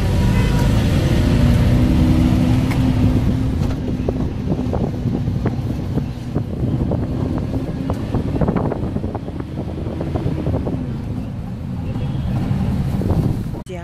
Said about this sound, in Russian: Еду в маршрутке.